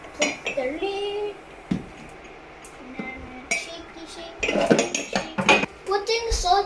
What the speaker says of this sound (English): Put the lid.